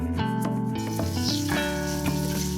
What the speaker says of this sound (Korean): 달군 팬에 올리브 오일을 넉넉히 두르고 노릇하게 부쳐주세요.